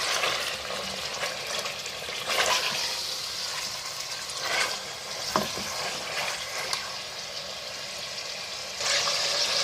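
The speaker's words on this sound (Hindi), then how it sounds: "ये मैंने मटन को भी ऐड कर दिया है और इसको मैं उस वक्त तक जो है वो फ्राई करूँगी" Mutton sizzles and fries in a pan while being stirred, a steady crackling hiss that swells with occasional louder bursts as the meat is moved around.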